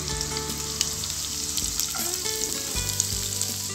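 Onion, green chillies and ginger sauté in a hot pan for a spring onion tomato masala: a loud, continuous close-up sizzle broken by occasional spatula scrapes and stirs.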